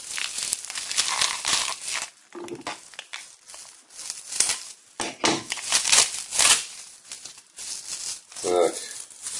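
Plastic packaging around LED T10 bulbs crinkles and rustles in repeated close bursts as it is pulled open by hand, with brief pauses between handling.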